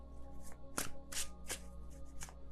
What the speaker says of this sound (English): I can shuffle this deck